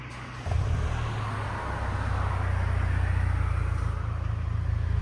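A 2024 Hyundai Sonata N-Line 2.5L with a straight-piped resonator and twin Valvetronic mufflers, valves closed, holds a steady, quiet low drone with a faint tone and no speech.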